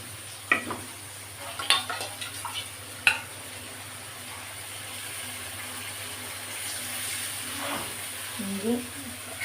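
Onion, chili, turmeric and ginger-garlic paste frying in a pan for a katla fish and cauliflower curry, a soft steady sizzle with a few sharp stirring scrapes and clicks near the start, continuing low through the clip.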